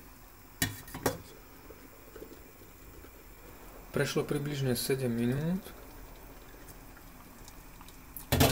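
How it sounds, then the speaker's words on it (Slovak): Spaghetti simmers in a pot of water over a low flame, a faint steady bubbling heard under a brief stretch of speech, with a few clinks. "A na jemnom plameni varíme ďalej."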